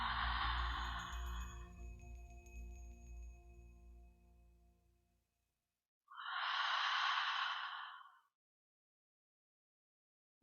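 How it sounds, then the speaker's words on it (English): Two slow, breathy exhalations through the mouth during a yoga flow, each a soft, sustained rush of air with a pause of silence between them. "Let's take 3 last slower exhalations through the mouth."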